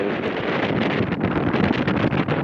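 Wind gust buffeting an R22 helicopter in flight, a steady loud roaring rush with fluttering pulses that stays constant throughout, no voices.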